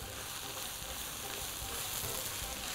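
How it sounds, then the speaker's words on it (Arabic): Onion, carrot, mushroom and zucchini frying together in a pan while being stirred, a steady dense sizzle with soft shuffling underneath and no voices. "اقلب، بصوا كل الخضار كده مع بعض، البصل والجزر والمشروم والكوسة اهي"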